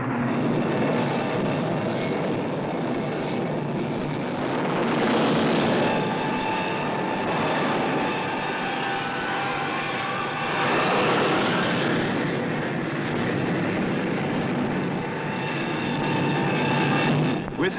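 Aircraft from a carrier sweeping over the ocean during a NATO anti-submarine screen, a continuous loud engine drone with a slowly shifting pitch as planes pass, steady throughout with no voices.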